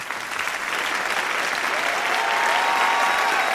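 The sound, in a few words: applause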